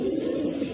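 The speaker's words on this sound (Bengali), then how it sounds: "আরেক জোড়া কবুতর এখানে" Pigeons, a pair of chocolate-coloured Mukhi birds, coo in a low, steady, rolling murmur, close and fairly loud with no pauses.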